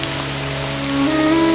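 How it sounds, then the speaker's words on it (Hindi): Heavy rain pours down in a steady, dense hiss that holds constant and grows slightly louder, with a faint tonal hum running underneath. "एक दिन जोर की बारिश हुई"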